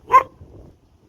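A dog gives a single sharp, close bark followed by a faint trailing rumble, then quiet, during an evening walk outdoors.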